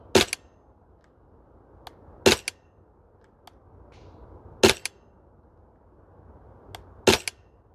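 A Maruyama MP9 airsoft gun fires single shots on an outdoor range in cold weather: four sharp, snappy cracks spaced a few seconds apart, each with a faint second click, over a quiet outdoor background.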